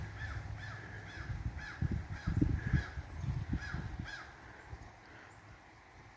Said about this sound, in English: The crows are gathering.